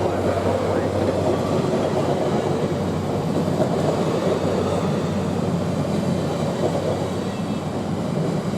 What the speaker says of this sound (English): Following close behind Amtrak is the Rocky Mountaineer, which is currently leasing Union Pacific SD70Ms